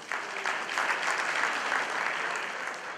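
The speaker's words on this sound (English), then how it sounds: "So give him a round of applause." Audience applause at a school reunion gathering, a short burst of steady clapping from a crowd of moderate size.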